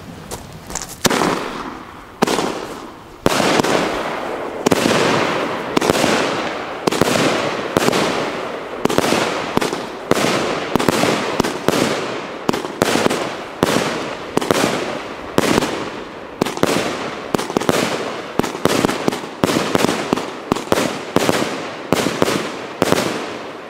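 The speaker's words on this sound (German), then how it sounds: "David hat hier noch eine C25-3P, die Meteor 25 Schuss" Meteor 25-shot firework battery (C25-3P) with chrysanthemum and blossom effects firing in a rapid run of loud, sharp launches and crackling bursts, roughly one shot per second, close and without talk.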